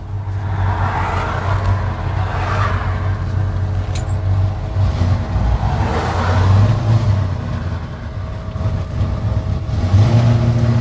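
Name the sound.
1970 Ford F100 pickup truck accelerating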